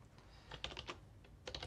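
Quiet clicking of a computer keyboard during setup of Ubuntu 18.04, irregular bursts of keystrokes with short pauses, no voices.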